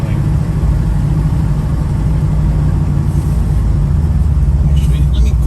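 A 1981 Chevrolet Camaro drives through a neighborhood with a loud, steady low engine rumble heard from the cabin, unbroken across the stretch.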